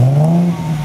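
Ford Mustang V6 Cyclone engine idling with a steady low drone and a slight rise in revs, heard close up at an outdoor sports car meet.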